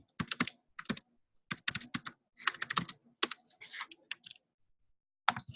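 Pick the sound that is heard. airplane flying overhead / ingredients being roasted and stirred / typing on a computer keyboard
typing on a computer keyboard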